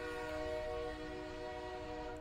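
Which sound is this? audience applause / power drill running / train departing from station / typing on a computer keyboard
train departing from station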